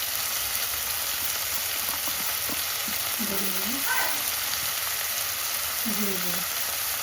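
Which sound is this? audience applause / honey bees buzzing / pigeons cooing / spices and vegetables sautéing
spices and vegetables sautéing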